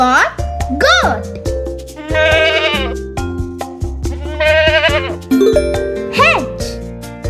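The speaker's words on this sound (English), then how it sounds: "G is for goat." A goat bleats in two wavering, loud cries over bouncy chimes and a voice, part of a cheerful children's alphabet tune.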